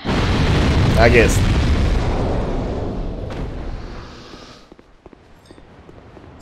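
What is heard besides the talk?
gunpowder barrels exploding in video game Dark Souls 2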